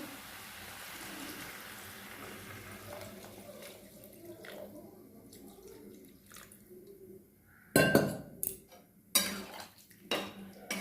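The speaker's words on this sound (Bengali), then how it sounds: "ভালো করে কষা হয়ে গিয়েছে এবার আমি জল দিয়ে দেবো" Water pours and splashes into a pan of momo filling in a home kitchen, arriving in a few short, loud bursts near the end after a stretch of quiet, low clatter.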